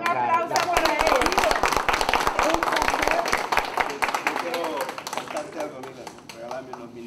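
A crowd at a community gathering applauds the visiting mayors. Close, loud, rapid hand clapping builds at first and then thins out, with a voice speaking over the claps.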